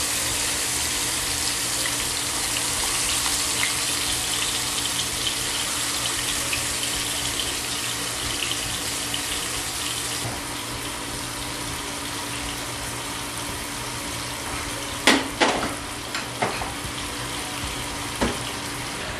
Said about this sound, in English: And now add the prawns after the oil is heated.